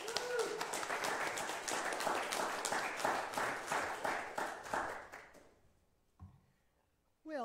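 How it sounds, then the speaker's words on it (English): Church congregation applauds two university graduates with a sustained burst of clapping that fades out after about five seconds, followed by a brief tap and then a voice. "give a round of applause for congratulations on such hard work of graduating from UNL to Haley and Savannah"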